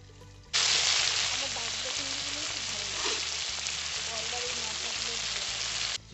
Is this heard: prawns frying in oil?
yes